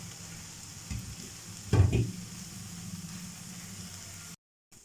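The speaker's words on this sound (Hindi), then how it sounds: "इनको 30 सेकंड के लिए जो है वो इनकी भुनाई कर लेंगे ताकि टमाटरों के साथ मसाला मिक्स हो जाए" Spices and tomatoes roasting on a tawa for tawa chicken give a low, steady sizzle, with a louder burst of stirring and frying in the middle before the sound cuts out briefly near the end.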